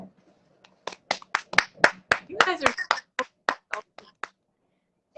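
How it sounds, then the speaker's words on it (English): About fifteen sharp hand claps ring out in a fairly regular rhythm, close and clear, with a brief spoken phrase in the middle and quiet before and after. "Clap, clap, clap."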